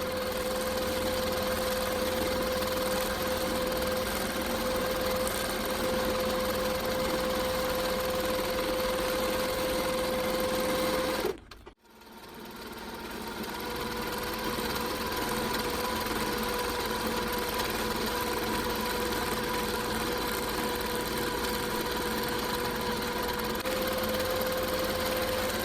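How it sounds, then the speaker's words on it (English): Sewing machine ditch stitching the black outlines of a Wildflower 9-Patch quilt, a steady continuous hum that stops briefly near the middle and then resumes at the same level. "I'm then stitching in the black outlines, which is effectively the ditch stitching"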